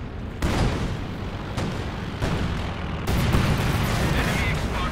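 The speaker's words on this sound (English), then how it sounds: "Stuka fragmentation bombing" Stuka fragmentation bombing in Company of Heroes 2: a string of heavy explosions booms in quick succession, dense and loud, the rumble thickening toward the end.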